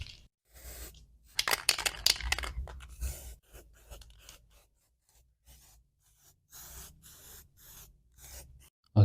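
Short hissing bursts of spray primer go onto Honda engine mounts as a second coat, in irregular passes of varied length, some louder and some faint, separated by quiet gaps.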